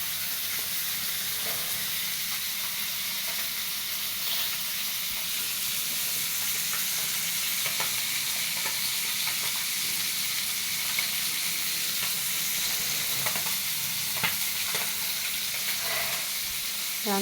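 Puti fish and carrot-potato vegetables fry in a pan with a loud, steady sizzle and hiss that runs without a break, broken by occasional clicks and stirring scrapes.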